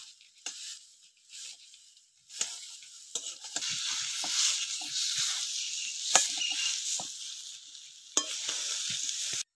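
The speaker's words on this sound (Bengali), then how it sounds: "এবারে ভালো করে আমি কচুটা কষাই করে নিই।" Salted taro is sautéed in a pan, with a soft continuous sizzle broken by repeated scraping and knocking strokes of a spatula, fairly quiet and close.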